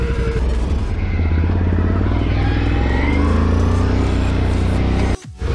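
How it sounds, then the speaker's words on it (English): A Can-Am Renegade XMR 570 ATV engine drones loudly and steadily at high revs during a top speed run, with constant rumbling and wind roar before a brief sharp drop near the end. "I don't want to break the Can-Am. Engine sounds healthy."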